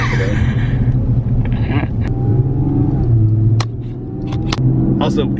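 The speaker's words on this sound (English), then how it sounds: "I like the sound of that intake too." A Chevy Colorado pickup's engine rumbles close by, its intake roar rising and easing with revs and a few sharp knocks and clicks in between.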